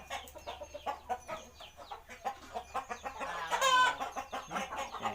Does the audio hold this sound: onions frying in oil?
no